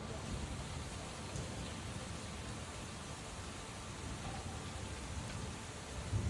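Heavy rain pours down in a dense, steady hiss during a flooding thunderstorm in Taif, Saudi Arabia, unbroken from start to finish, with a faint low rumble at the end.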